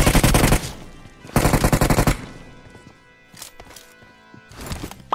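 Bursts of automatic gunfire from a video game: a loud rapid volley, a second sharp burst after a short gap, then fainter, more scattered shots further off.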